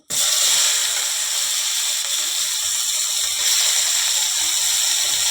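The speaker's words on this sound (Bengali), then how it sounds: "পেঁয়াজ কুচিটা আমি হালকা ব্রাউন কালারের আগে ভেজে নেব" Chopped onion frying in oil for a simple chicken dish gives a loud, dense, continuous crackling sizzle close up, steady from the start with no talk.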